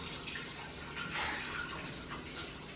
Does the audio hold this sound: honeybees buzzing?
no